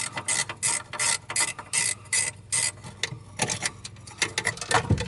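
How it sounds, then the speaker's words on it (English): A ratchet wrench backs off a bolt while servicing an Aqua-Hot heater, giving a series of sharp, close metallic clicks in uneven bursts with no talking. "Put my ratchet on it. Back that off."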